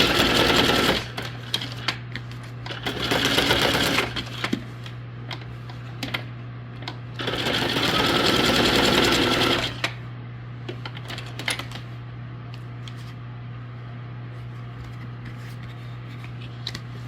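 Sewing machine stitching paper junk journal tags, running in two long bursts of rapid mechanical whirring with quieter handling and paper rustles in the gaps.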